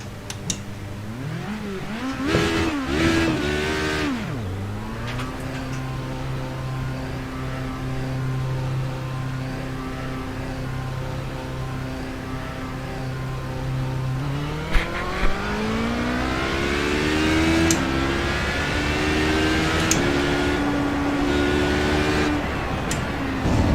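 A race car lapping the Le Mans circuit, its engine droning and rising and falling through gear changes as it accelerates, loud and steady over a long stretch with a few sharp clicks.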